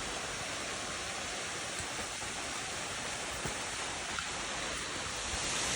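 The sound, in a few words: river and waterfall in full flow, Nant y Ffrith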